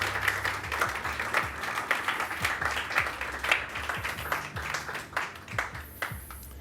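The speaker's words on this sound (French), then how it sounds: "On peut l'applaudir bien fort, ouais." Audience applause at a stage show by a psychic and mentalist, a dense steady clapping from a seated crowd lasting several seconds before tapering slightly at the end, with no talking over it.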